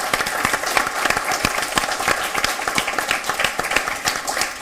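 An audience at a poetry event applauds, with dense, steady clapping from many hands that continues throughout, fairly loud and with no talk over it.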